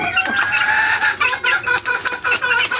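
Hens and young chicks cluck and peep on a small poultry farm, with a dense stream of close, overlapping calls and sharper clucks in irregular bursts.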